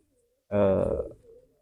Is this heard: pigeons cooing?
yes